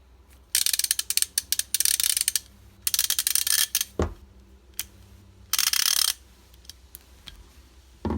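A Pittsburgh Pro half-inch drive ratchet clicks in quick bursts of sharp, close pawl ticks, with short pauses between the runs and one heavier thunk partway through.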